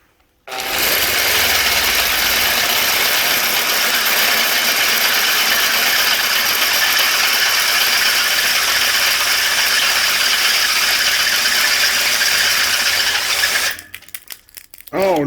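An electric drill runs on a work-in-progress off-road adventure trailer, a loud, continuous grinding whir held steady for about thirteen seconds before it cuts out and a few clunks follow.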